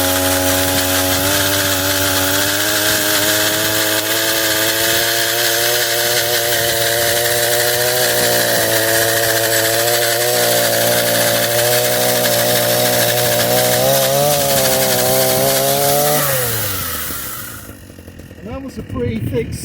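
A Proyama 5-in-1 multi-function garden trimmer with chainsaw attachment cuts through a thick tree stump, its engine droning loud and steady with rising and falling pitch for about sixteen seconds before winding down near the end.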